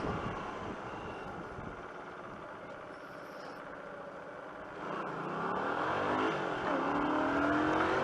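A 125cc V-twin motorcycle engine revs up from a steady background drone, the pitch rising and climbing over the last few seconds, moderately loud and without talk.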